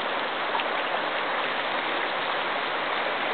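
Water rushes steadily from a leaking broken black pipe near a creek bridge on Bluff Road, a dense continuous hiss and splash with no pauses, loud and close.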